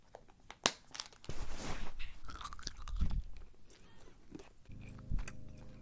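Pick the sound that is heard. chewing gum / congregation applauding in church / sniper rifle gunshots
chewing gum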